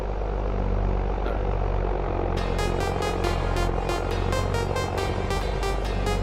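A Ford tractor engine in the Farming Simulator 25 video game drones steadily with a throbbing low rumble, joined partway through by a rapid run of sharp, evenly spaced clicks.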